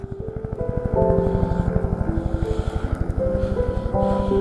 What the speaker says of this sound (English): there was a helicopter coming down the valley